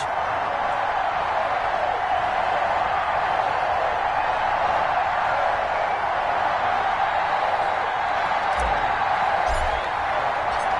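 Steady, unbroken crowd roar from a stadium in a Madden NFL video game before a Green Bay Packers versus Tampa Bay Buccaneers matchup, a dense wash of noise holding evenly throughout.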